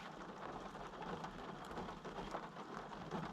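Steady rain falling at a campsite during a weekend of camping and wildlife photography, a dense continuous patter with a few louder drops standing out, no talking.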